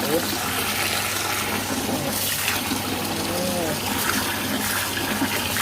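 Continuous sloshing and running water as sticky rice is rinsed in a basin, with a voice speaking over the splashing.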